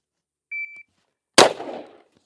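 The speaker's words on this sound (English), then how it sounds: "Get a test beep here." A shot timer gives a short electronic test beep, then after a brief pause a single loud sharp CETME L rifle shot cracks and decays, heard close at an outdoor range.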